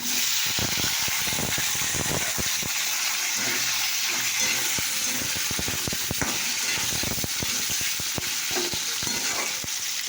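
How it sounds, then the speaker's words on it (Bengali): Potatoes tumbling into onions already frying in hot oil, with a steady loud sizzle and repeated scraping clicks of stirring throughout, close up and no talk. "এবার আলু কাটা আছে, আলুটা দিয়ে দিলাম"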